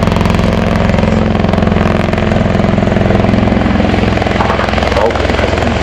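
At the Farnborough Airshow, an MV-22B Osprey's two Rolls-Royce AE1107C engines run steadily, giving a loud continuous roar with a deep rhythmic thumping throb close by.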